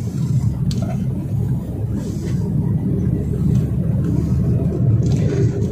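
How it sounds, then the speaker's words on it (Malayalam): A car moves at low speed on a road while the driver picks up speed and shifts into third gear, giving a steady, muffled engine and road rumble heard from inside the cabin with no talk. "ഇനി നമ്മൾ ഒന്നുകൂടെ സ്പീഡ് കൂട്ടിയിട്ട് തേർഡ് ഗിയർ ആക്കുന്നു"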